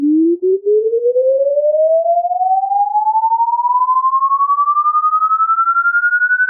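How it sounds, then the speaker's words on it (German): A single steady tone, shifted in phase against a copy of itself by a sample delay, glides smoothly upward in pitch over several seconds, with a subtle pulsing wobble from phase cancellation. "Dadurch ist es mir möglich, die eine Welle gegen die andere zu verschieben."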